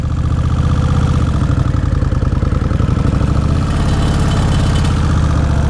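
A 2003 Kawasaki Vulcan VN1600 Classic motorcycle idles close by, a loud, steady, low throbbing engine rumble with an even pulsing beat and no voices.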